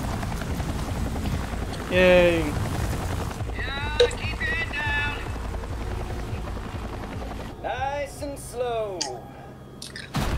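Helicopter in the game Resident Evil 4, a continuous rotor thrum running under game sounds and excited voices talking over it, fading near the end.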